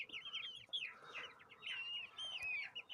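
Young chicks wander a pasture on a cool morning, giving repeated thin, high peeps and chirps in quick overlapping bursts, faint and fairly close, with no talking.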